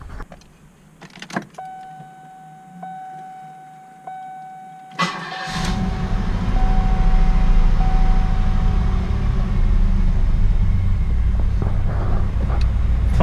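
A 1991 Cadillac DeVille engine cranks briefly, catches and settles into a steady, even idle, preceded by a few faint clicks and thumps inside the car.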